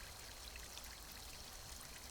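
Water trickles and pours as it is collected at a stream in the survival game Northern Lights, a faint, steady hiss of running water with no voices.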